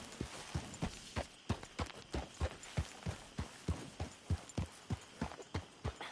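Horse hooves clip-clop in a steady walking rhythm inside a PS4 video game, around twenty even, fairly soft thuds at close range with no voices over them.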